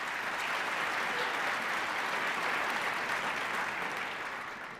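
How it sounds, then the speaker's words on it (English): An audience at a Nebraska Athletics awards night applauds in a dense, sustained burst of clapping that fills the hall evenly, then begins to taper away at the end. "Let's give her a round of applause."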